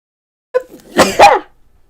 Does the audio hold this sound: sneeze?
yes